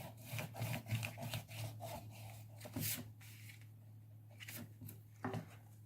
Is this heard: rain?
no